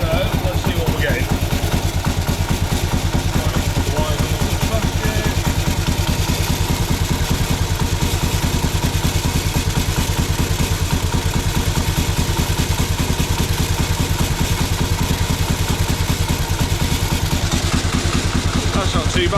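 A Norton Model 50 motorcycle engine idles just above tick-over with a loud, close, evenly pulsing thump and mechanical clatter. A voice speaks over the engine.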